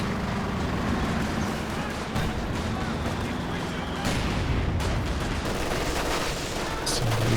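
A Company of Heroes 2 battle rumbles with steady gunfire and grenade blasts, a dense continuous wash of combat noise with a few sharper bangs and thuds rising out of it.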